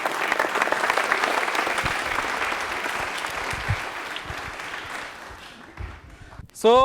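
A studio audience at a televised quiz program applauds contestant Kishan, loud sustained clapping that thins and fades toward the end, where a brief tone cuts in.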